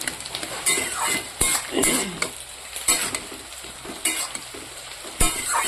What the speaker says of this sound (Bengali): এই চিংড়ি মাছটাকে ভাজার জন্য বসিয়ে দিয়েছি এক পাশ হয়ে গেছে